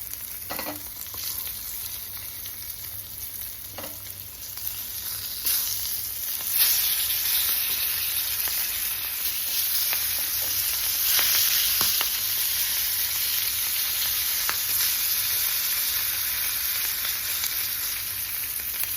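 Pieces of roe-filled fish sizzle in hot oil, a continuous close crackle that grows slightly louder partway through, with occasional sharper pops and scrapes of stirring.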